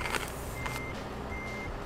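Reversing beeps from a truck in the Euro Truck Simulator 2 video game, a few faint evenly spaced electronic tones over low engine rumble, with no talk.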